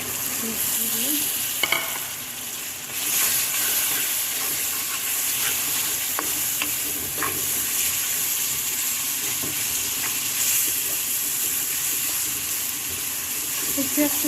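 Spiced chicken sizzles steadily in a hot pan as a spoon stirs and scrapes through it, a constant frying hiss with occasional clinks, while a voice talks over it.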